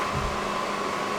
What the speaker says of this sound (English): The vacuum is coming here.